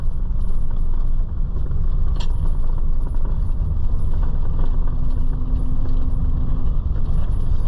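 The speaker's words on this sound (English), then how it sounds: "there it shifted into another gear" A cheap Ford Super Duty truck drives with a loud, continuous engine rumble and mechanical rattle, a faint whine rising as it shifts gear partway through, with no talk.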